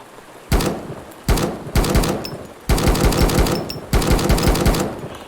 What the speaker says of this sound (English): Like those gunshots sound a little cheap.